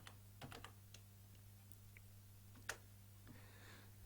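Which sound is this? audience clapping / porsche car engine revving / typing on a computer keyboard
typing on a computer keyboard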